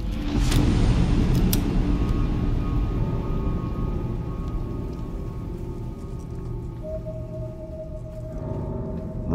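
Steady rain in the video game Silent Hill 2, a dense continuous hiss of falling water with a couple of sharp early clicks and faint tonal hums underneath, with no talk.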